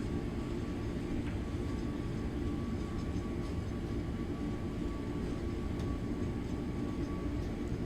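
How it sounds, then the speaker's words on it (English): An airliner's thrust reversers roar during the landing rollout, a steady broad rumble heard from inside the cabin, fairly faint and continuous without any talk. "The reversers are quite strong."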